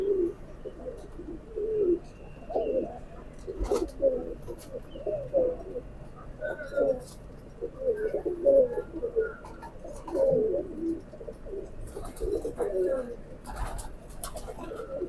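Soft, repeated coos from a pair of Dub kamagar pigeons, low rolling bursts recurring steadily throughout, close by, over faint background noise and occasional light clatter.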